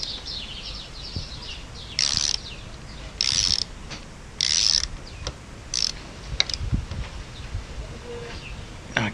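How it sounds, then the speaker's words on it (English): K-Tech preload nut tool tightening the cup on a K-Tech 20DDS motorcycle fork cartridge: several short bursts of metallic ratcheting clicks spaced apart, with faint background noise between them. "Now you need to tighten the cup using the preload nut here and the K-Tex tool."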